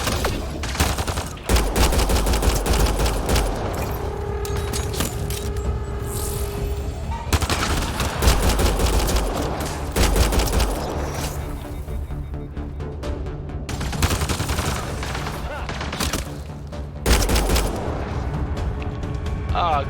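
Gunfire from the Mass Effect: Andromeda video game, bursts of rapid shots and booming blasts repeating across the stretch, loud and close, with players talking over the fighting.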